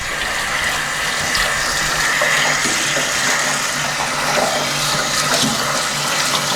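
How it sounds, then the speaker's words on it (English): Water runs steadily while an arm is rinsed off under it, a continuous close hiss and splash with no talking. "Get my arm washed off."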